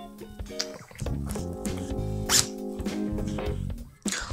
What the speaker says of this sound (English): Here is a zipper.